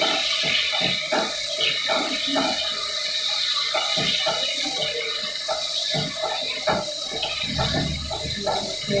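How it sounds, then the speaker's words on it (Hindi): Onions sizzle in a frying pan in a turnip (shalgam) dish being cooked. A steady, close hiss and crackle runs throughout, with some faint talking underneath. "प्याज फ्राई हो रहे हैं।"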